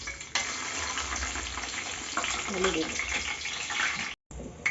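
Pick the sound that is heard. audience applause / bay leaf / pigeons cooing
bay leaf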